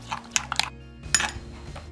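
A spoon stirs a thick, melting mixture for no-bake pistachio kunafa eclairs in a pan, tapping and clinking against the metal in short scraping strokes with brief pauses.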